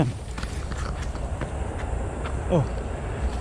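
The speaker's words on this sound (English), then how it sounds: "the train is just going over" A subway train rumbles past overhead near a park in Beijing, a low, continuous roll heard from below, with faint scattered noises over it.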